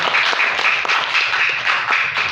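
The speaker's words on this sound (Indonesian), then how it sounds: "Tepuk tangan untuk Forum Karang Dharma Raja." A crowd at an Indonesian community aid handover event claps loudly and continuously, with a slightly pulsing rhythm of many hands close by.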